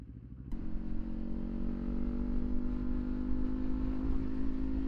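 A 2024 Kawasaki Ninja 500 motorcycle fitted with a new exhaust runs steadily after a sharp start, its deep, even engine drone loud and close throughout.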